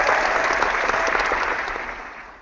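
Game-show applause triggered by an applause sign, a dense, loud burst of crowd clapping that holds steady before tapering off slightly at the end.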